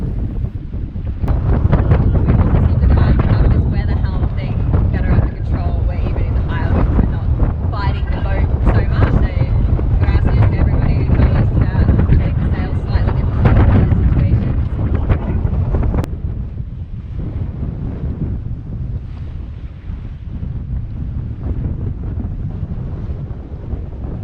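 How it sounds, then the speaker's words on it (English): Strong offshore Papagayo winds off Nicaragua buffet a sailboat, a loud continuous roar of wind over the microphone with water rushing past the hull, easing slightly toward the end. "we were facing some serious offshore winds from the infamous Papagayos"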